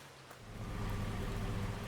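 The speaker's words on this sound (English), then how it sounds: "Let's duck up and get out of this rain." Steady rain falling outdoors on a forest farm, a continuous close hiss of drops with low rumble that swells slightly after the first half second and holds constant, no voices.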